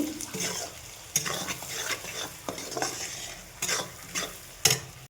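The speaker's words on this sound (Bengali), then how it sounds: "এটাকে একটু কষিয়ে নেব" Chicken being stirred in a pan with salt and turmeric powder for chicken kosha, with a spatula scraping and clattering in irregular strokes over a steady sizzle, close and loud.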